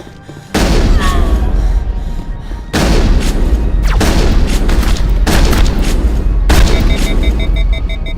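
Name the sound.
shotgun blasts in the video game Mass Effect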